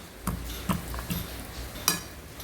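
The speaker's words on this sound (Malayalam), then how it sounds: "അതൊന്ന് കൈ കൊണ്ടോ അല്ലെങ്കിൽ സ്പൂൺ കൊണ്ടോ എന്തിനെ കൂടെ അടിച്ച് നല്ലപോലെ കട്ടകളില്ലാതെ ഉടച്ചെടുക്കാം." Boiled, peeled potatoes being mashed with a spoon in a bowl: a few soft, separate knocks and scrapes of the spoon against the bowl, spaced irregularly and fairly quiet, with no talk.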